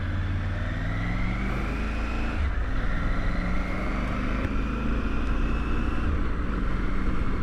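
A motorcycle rides out from a village after 18 years off the road, its engine droning steadily up close with rising and falling pitch as it shifts through gears, loud and continuous with no voices.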